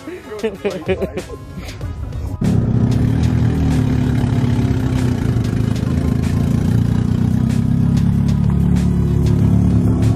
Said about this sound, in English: this was the whole comparison with the titanium exhaust